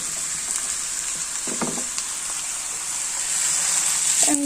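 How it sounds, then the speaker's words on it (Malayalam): Fried onions tipped into a pan of mutton for kurma give a steady close frying hiss, with a few brief stirring clatters partway through and a slight rise in sizzle toward the end. "ഈ സവാള നമുക്ക് മട്ടനകത്തോട്ട് ഇടാം"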